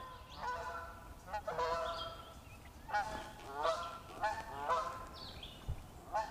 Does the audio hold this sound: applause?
no